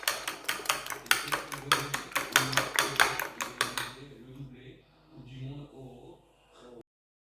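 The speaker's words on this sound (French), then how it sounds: "Et je vais continuer à battre et rajouter la crème fraîche" A whisk beats a savoury tart filling with crème fraîche, pepper and paprika in a bowl, fast rhythmic clinking strokes that slow and fade, with a voice speaking in the background.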